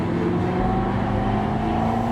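A historic 1966 Le Mans Ford GT40 race car engine runs close and loud with a steady, droning mechanical note throughout, no voices.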